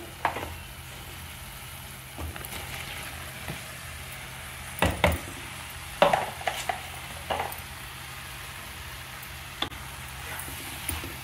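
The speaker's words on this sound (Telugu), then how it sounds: "ఇప్పుడు ఇందులో మనం కట్ చేసి పెట్టుకున్న పుట్టగొడుగులు వేసేసుకుందామండి" Sliced mushrooms tipped into a hot pan for a mushroom curry set off a steady close sizzle, with a few sharp clatters and stirring knocks scattered through it.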